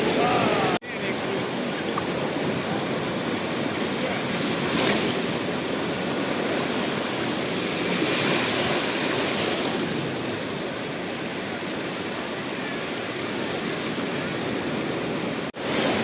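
Continuous broadband wash of sea waves surging and rushing on an Albanian beach under cloudy skies, steady and fairly loud throughout, with no distinct voices standing out.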